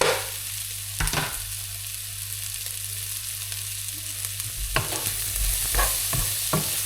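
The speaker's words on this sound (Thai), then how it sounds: "หลังจากนั้นเราก็จะใส่ หัวหอมนะคะลงไปผัดค่ะ" Ham and onion stir-fried in oil in a pan, a steady sizzle running underneath with a few sharp scrapes and clatters of the utensil against the pan, close and alone with no talking.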